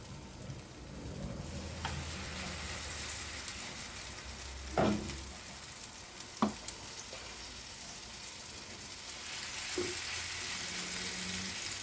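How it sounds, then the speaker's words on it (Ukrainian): Zucchini sizzles steadily in hot oil in a pan, with a few sharp clinks and taps of utensils scattered through the continuous crackle. "я сюди налила масло і буду смажити"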